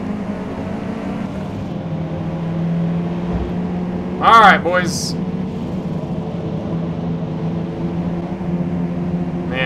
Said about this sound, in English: that is a lot of car engine sounds